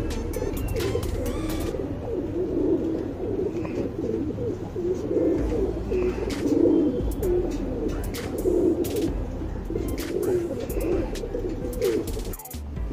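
Tournament pigeons coo continuously in a close, dense chorus of low throaty calls, with occasional light clicks and rustling underneath and no one talking.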